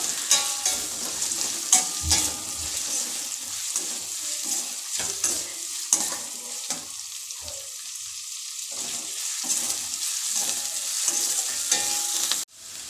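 Chopped onions sizzle steadily in a pan over medium flame for a pulao, with scraping stirs and a brief clatter near the end, close and fairly loud with no voices.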